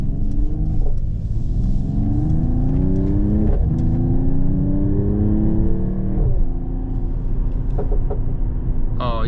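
A 2024 Mercedes-AMG GT 43 4-Door Coupe engine revs and accelerates through rising gears, with a few sharp exhaust pops and crackles between shifts, loud and close.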